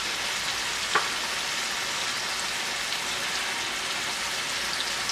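Chicken pieces fry steadily in a hot pan, giving a constant dense sizzle with one faint pop, no voices over it.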